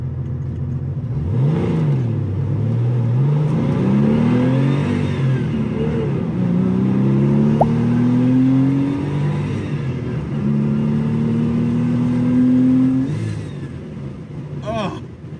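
A Porsche 993 Targa with a manual transmission revs while driving, its engine note sweeping up in pitch through several rising pulls and dropping between them, loud and close, with a steady road rumble underneath.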